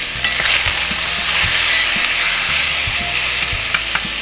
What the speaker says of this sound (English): yeah, you can hear that sizzle.